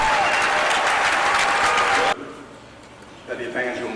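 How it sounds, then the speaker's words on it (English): Thunderous applause fills a hall at Evangel University as Dr. Taylor is announced as its new president, loud and sustained for two seconds before cutting off abruptly, followed by a brief spoken voice. "Thunderous applause takes place as Dr. Taylor is announced the president of Evangel University."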